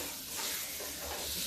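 Bitter gourd fries in oil in a scratched non-stick pan, giving a steady, close, bright sizzling hiss with no talking.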